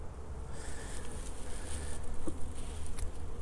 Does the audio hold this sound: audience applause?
no